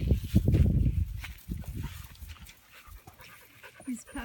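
Six-week-old puppies pant and scuffle close by in quick rhythmic breaths, loudest at first and then quieter. Some soft voices come through under the panting.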